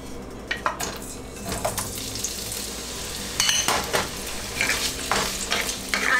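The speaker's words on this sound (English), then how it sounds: "So I am going to fry my potatoes first." Potato pieces frying in hot mustard oil, a loud close sizzle with scraping stir strokes and clinks of a utensil against the pan, no talking.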